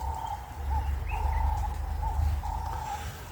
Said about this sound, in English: all the noises of nature, the birds singing